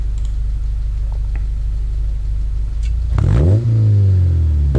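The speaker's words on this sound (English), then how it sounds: "This is a free rev with the full race exhaust." Honda Civic FA5 with a full race exhaust idles with a steady low rumble, then the engine is free-revved once near the end, swelling into a loud, rising blip before settling back down.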